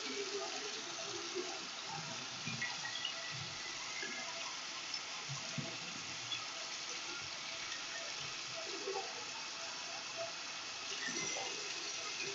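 Tap water runs steadily while hands are rinsed under it, a soft, continuous splashing stream with slight fluctuations as the flow is interrupted, faint and close.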